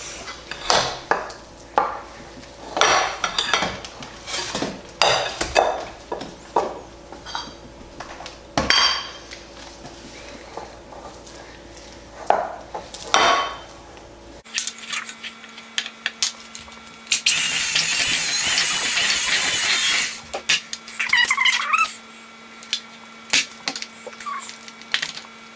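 An electric hand mixer creams butter and sugar in a bowl for an Italian cream cake. A steady motor whir runs for about three seconds between stretches of clinking and clattering utensils against the bowl.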